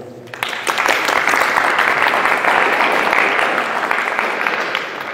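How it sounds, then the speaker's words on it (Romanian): Audience bursts into applause for a congratulated participant during a talk, a dense clapping wash starting abruptly and holding steady before easing slightly. "Dați-i aplauze."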